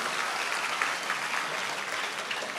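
Loud, dense audience applause at a Yakshagana stage event, a steady wash of many hands clapping for the full stretch with no voices on top.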